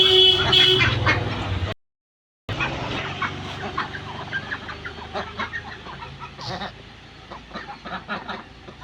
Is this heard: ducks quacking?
yes